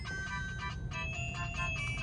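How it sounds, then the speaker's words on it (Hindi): A mobile phone ringtone plays a repeating electronic melody in short tonal phrases, fairly faint over a low background rumble, with no talk over it. "फोन उठाओ।"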